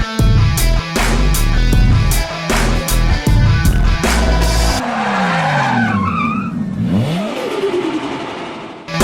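Gymkhana race cars launching off the line in a FormulaG event, loud rapid engine bursts giving way to sweeping revs and squealing tires as the cars accelerate away, close and dominant with no talk.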